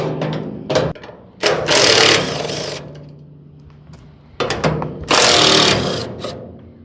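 An impact driver or power tool spins nuts off a wood chipper with a 13mm socket, giving two bursts of loud whirring and rattling separated by quieter mechanical clicks.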